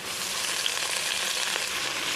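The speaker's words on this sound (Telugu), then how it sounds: "తగినంత మెంతెపు కూర వేసుకొని ఉడికించుకుందాం" Fenugreek leaves and onion fry in a pan with a dense, continuous hiss of sizzling oil, close and even throughout, with no voices.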